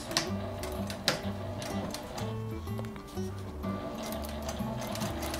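Sewing machine stitching a folded canvas tote bag, a quiet rapid mechanical ticking with stop-start runs and brief back-stitching pauses, close up.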